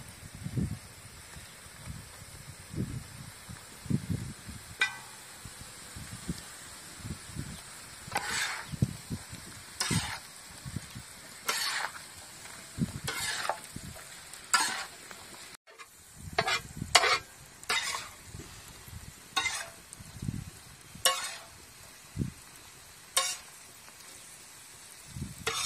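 Capsicum and vegetables stir-fried for Hakka noodles, a soft sizzle under repeated rhythmic scrapes and tosses of a spatula in the pan, fairly close and moderately quiet.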